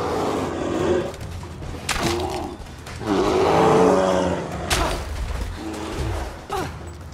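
A bear fights in the video game Rise of the Tomb Raider, with repeated deep, loud roars and growls broken by heavy thuds and impact bursts, close and forceful.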